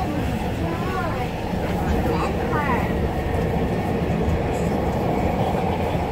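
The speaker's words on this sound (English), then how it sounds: "Skytrain" A Vancouver SkyTrain on the Evergreen Line rumbles along loudly and continuously, with faint wheel squeals on a curve, while someone speaks briefly over the train noise.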